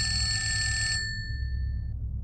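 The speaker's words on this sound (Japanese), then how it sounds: "公衆電話が鳴った" A ringing bell like a public telephone's sounds loudly for about a second as a sound effect in a night-time horror narration, then a single tone fades out over a low steady rumble.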